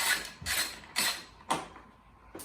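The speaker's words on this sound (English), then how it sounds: "So now I just have one more bolt on the radiator, which is an 8mm as well." An 8mm radiator bolt is worked loose with a ratchet wrench, giving about five crisp, close clicking strokes in an even rhythm roughly every half second, with no talking.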